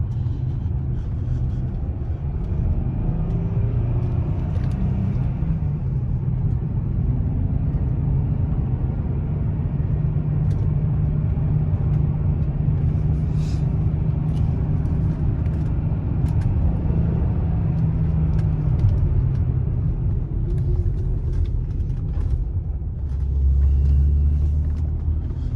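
Cabin rumble of a BMW X5 Sport with a six-speed manual cruising on the road, a steady low engine and tire drone that stays even throughout, with a slight swell near the end and no talking.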